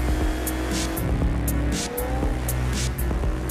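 A 2013 Lexus LS F Sport drives with a loud, steady low engine rumble and tire noise, up close and unbroken by talk.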